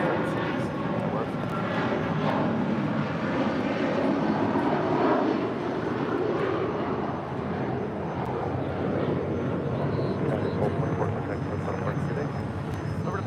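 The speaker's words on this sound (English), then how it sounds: "That is United Airlines flight 1224 departing to Honolulu on a 757-300." A United Airlines Boeing 757-300 departs LAX for Honolulu, its engines giving a steady, moderately loud roar that dips briefly midway, with voices audible underneath.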